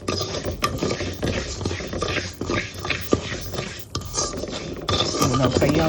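Parboiled rice dry-roasting in a pan, a steady loud rattle and scrape of grains stirred against metal with clinks, while a voice talks over it.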